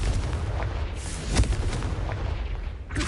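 Confringo fire spell in Hogwarts Legacy on PS5, a series of loud, booming blasts and bursts over continuous game ambience.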